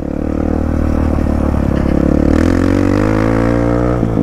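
A dirt bike engine drones steadily in second gear while riding, a loud, continuous motor sound with slight rises in pitch and no speech.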